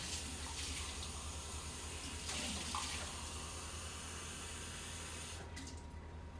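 Tap water runs steadily into a cup in a kitchen, a continuous broadband hiss and splash that holds fairly loud and close for several seconds before easing off near the end.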